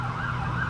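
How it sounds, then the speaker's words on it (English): An emergency siren wails outside a small hot studio in Vietnam, a steady rising and falling tone heard briefly and fairly loud through the walls. "Are we waiting for the siren?"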